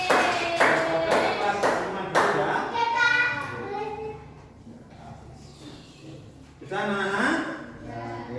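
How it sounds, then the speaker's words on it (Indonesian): Schoolchildren in a classroom clap in a few quick, sharp rounds at the start, followed by a voice and an adult speaking. "Beri tepuk tangan."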